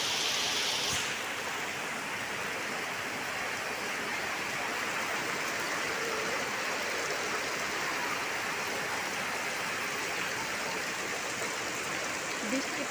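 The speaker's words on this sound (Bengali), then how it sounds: "প্রচন্ড পরিমাণ বৃষ্টি।" Heavy rain pouring down, a dense steady hiss of water falling and rushing, constant throughout at moderate level with no clear talk over it.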